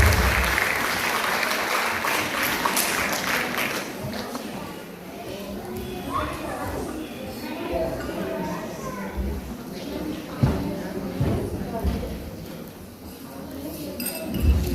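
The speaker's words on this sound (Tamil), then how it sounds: "நண்பர் ஃபஸ்லான் அவர்களை அரங்கில் இருந்த கரகோஷங்களை கொடுத்து உற்சாகப்படுத்த வேலை கொண்டிருக்குமாறு அன்பாக கேட்டுக்கொள்கிறேன்" Applause from an auditorium audience at a college media awards ceremony, welcoming a guest to the stage, fills the room with a steady dense patter along with some clinking and chatter, then thins as a voice begins speaking.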